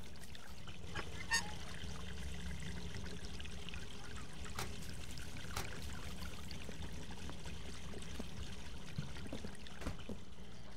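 Water pours steadily in the horror video game Hello Neighbor, a continuous trickling stream at a low level with a few faint clicks and thumps.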